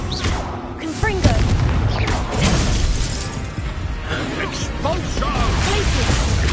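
A Confringo blasting spell exploding in Hogwarts Legacy amid chaotic combat, with loud crashing blasts, shattering debris and rumbling booms layered under shouted voices.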